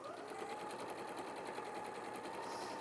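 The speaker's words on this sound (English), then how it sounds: "So this is speed sewing at its ultimate." A domestic sewing machine runs at high speed in a steady, unbroken whir with a fine rapid needle rhythm. The sound stays quiet and even throughout, with no talking.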